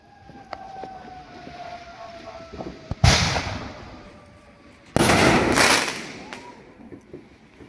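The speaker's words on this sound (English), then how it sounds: "All right, no more fireworks now." Fourth of July fireworks in Haledon, New Jersey: two loud broadband blasts about two seconds apart, each followed by a crackling, rumbling decay over a faint outdoor background.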